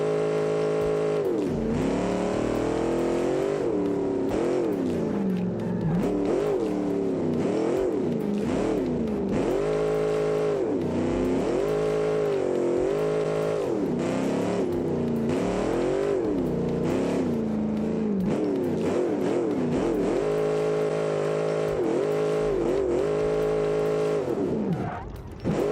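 A drift car's engine revs hard and repeatedly in a racing video game, rising and falling in pitch with throttle blips over tire squeals and skids, loud and continuous throughout.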